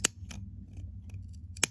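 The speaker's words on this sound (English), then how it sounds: "I'm just simply clipping around the edge" Scissors snipping fabric around the curved seam of a small zipper pouch, three or four crisp close cuts spaced irregularly with quiet pauses between them, no talking.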